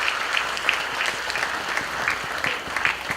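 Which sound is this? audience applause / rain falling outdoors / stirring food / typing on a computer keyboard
audience applause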